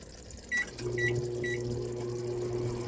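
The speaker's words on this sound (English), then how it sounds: "I just put rice in the microwave" A few quick electronic beeps, then a steady low mechanical hum as a microwave starts running nearby, heating a pouch of 90-second rice.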